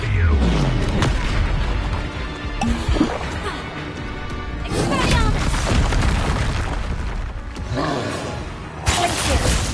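Spell blasts and booming explosions crash in a wizarding video game, with dense, loud impacts and shattering bursts one after another while a voice shouts over them.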